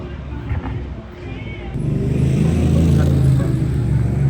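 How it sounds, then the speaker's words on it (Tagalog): Traffic rumbles along a street, a vehicle engine swelling louder as it approaches and passes close by, with low background noise throughout. "May mga sasakyan dumadaan dito."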